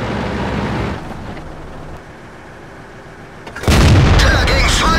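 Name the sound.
tank gun shot penetrating armour in the video game World of Tanks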